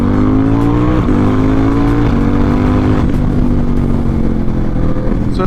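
Ducati Diavel 1260S motorcycle riding through heavy traffic, its engine droning loud and steady throughout with slight rises and falls in pitch and constant road and wind noise.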